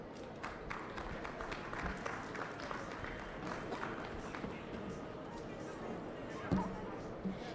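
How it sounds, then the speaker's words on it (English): Faint, steady applause from a crowd ringside at a youth meat goat show, with a diffuse patter of clapping and a few scattered thumps. "Let's give these two a round of applause."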